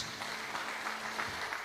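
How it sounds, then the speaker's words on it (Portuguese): Steady, moderately distant applause from a church congregation, a dense patter of clapping hands continuing throughout. "Você pode aplaudir Jesus?"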